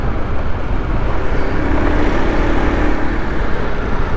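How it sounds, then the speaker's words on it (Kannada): Aprilia SR 160 scooter idling after a self start, a steady close low burbling exhaust note with constant loudness and no voices. "So self start. ಇದ್ರ ಎಕ್ಸಾಸ್ಟ್ ಚೆನ್ನಾಗಿದೆ"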